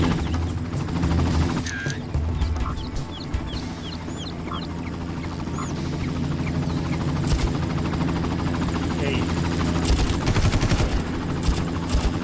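A helicopter in the Far Cry video game throbs with a steady rotor drone under bursts of gunfire and scattered chirping effects, all at a fairly loud, constant level.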